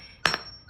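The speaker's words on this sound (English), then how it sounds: "Okay, that's hammering." A hammer strikes metal while shaping shrink plastic jewelry, giving two sharp, close, loud blows about half a second apart with a ringing tail.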